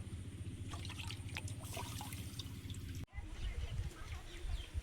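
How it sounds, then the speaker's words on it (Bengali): Gobindobhog rice swished and rinsed in water makes a continuous close sloshing and trickling, with a brief break midway before the washing resumes. "100 গ্রাম গোবিন্দভোগ চাল ভালোভাবে ধুয়ে নেব"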